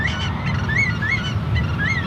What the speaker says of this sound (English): the birds are loud today